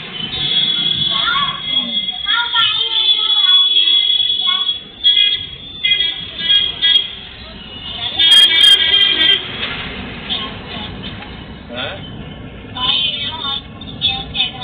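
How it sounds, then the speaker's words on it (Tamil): Dense traffic jam on a crowded Coimbatore road: repeated high car and bus horns honk and toot over rumbling engines, with people talking nearby throughout. "அது சத்தம் டிராபிக் ஜாம் சத்தம்"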